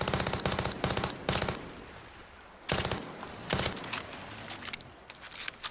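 Bursts of rapid automatic gunfire aimed at a crocodile in Far Cry 6, several sharp volleys separated by brief pauses, loud and close with no talking.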